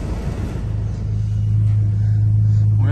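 The engine of a 2000 Alfa Romeo GTV runs at a steady idle, a loud, close, even rumble with a low hum that settles and firms up after a moment.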